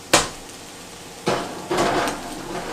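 A metal baking pan of garlic toast clanks into an oven, giving three sharp metallic knocks spaced apart, fairly close and with no talk.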